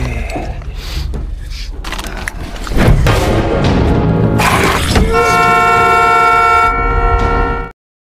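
Car horn honking loudly in several blasts, ending in a long sustained honk, amid clattering mechanical noises and a vehicle nearby, in a zombie film.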